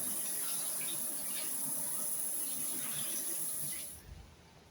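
Steady flowing water runs continuously and loud, like a tap or stream pouring without pause, then cuts off abruptly near the end.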